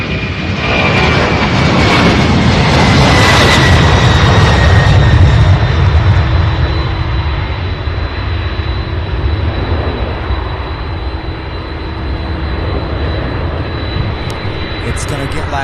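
Boeing 747 jet taxiing on an airport taxiway at Louisville, a loud, close roar of engines with a whining high tone that builds, peaks and holds as the aircraft passes.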